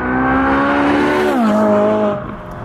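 A Ferrari 458 Speciale Aperta's naturally aspirated V8 sings loud and close with the roof off, holding a steady high-revving wail, then dropping in pitch through a shift before easing off toward the end.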